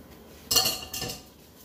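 A utensil scraping leftover syrup from a pot, two short close metallic scrapes in quick succession with no talk.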